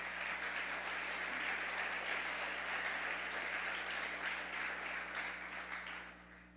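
Congregation applause at a church service, a steady wash of clapping that holds evenly for several seconds and then begins to fade toward the end, with a low steady hum running underneath.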